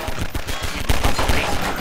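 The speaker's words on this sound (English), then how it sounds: "Gun blazing." Rapid automatic gunfire in the video game Garry's Mod, a loud, dense burst of shots firing in quick succession throughout.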